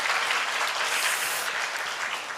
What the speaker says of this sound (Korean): 우리 모두 격려의 박수를